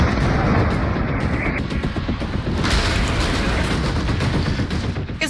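Bombing and gunfire from a war report on Israeli strikes on seven Iranian cities: dense, continuous booms and crackling shots with rapid volleys layered under heavy rumble, loud and sustained throughout with no talk.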